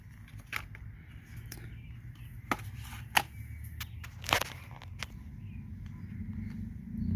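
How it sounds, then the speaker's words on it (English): Scissors snip a small plastic tag off an original Husqvarna mower belt for a Poulan Pro PX46Z zero-turn mower, giving a few sharp, isolated clicks spaced seconds apart over a low, steady background hum. "We had to cut that little plastic tab off"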